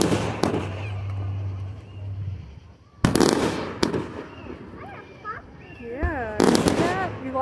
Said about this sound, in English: Fireworks. Fireworks, baby.